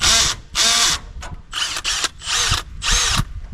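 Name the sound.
impact driver running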